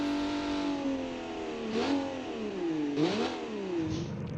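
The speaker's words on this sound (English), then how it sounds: "The KHI Jikin 250 GT has a naturally aspirated inline 6, which is a rare engine choice" A naturally aspirated inline-6 engine in the KHI Jikin 250 GT racing in BeamNG revs steadily, its tone climbing and dipping through two distinct surges, loud and close with no talk.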